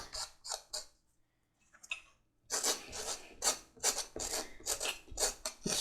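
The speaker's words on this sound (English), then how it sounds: "Just scrape it some and rough that surface up, open it up a bit." A knife blade scrapes across the surface of a leather holster for a Single Action Army clone, roughing it up in a run of quick, rasping strokes, close and fairly loud after a few brief scrapes and a pause.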